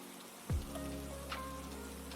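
Steady rain falling on a surface, a continuous hiss with a brief low thump near the start, heard alone.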